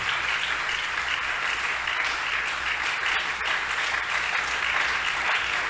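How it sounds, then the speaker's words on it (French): A church congregation at a francophone Sunday service claps loudly and continuously, a dense, sustained wash of applause with no pauses. "Acclamez très fort, s'il vous plaît."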